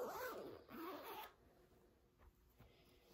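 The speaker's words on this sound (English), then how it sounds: "If you zip this up" An invisible zipper on a homemade prom dress is drawn up in two quick, close zips, each a bright ripping rasp lasting about half a second, followed by quiet.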